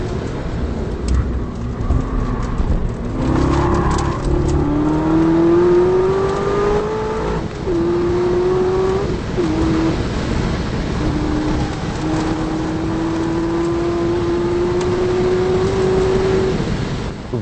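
A Corvette ZR1 on the Nurburgring circuit, its engine note rising in long climbing sweeps through the gears as it passes, loud and sustained with brief dips between shifts, no talking.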